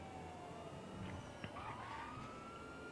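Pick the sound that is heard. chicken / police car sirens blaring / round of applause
police car sirens blaring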